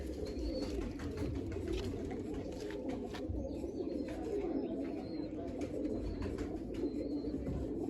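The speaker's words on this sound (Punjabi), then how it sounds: "ਇਹ ਪੱਲੇ ਵਾਲਾ ਕਬੂਤਰ ਵਾਜਦਾ" A kalsira pigeon coos steadily in a loft alongside nesting birds with eggs, its low rolling calls continuing throughout over a constant background hum, with other faint bird chirps higher up.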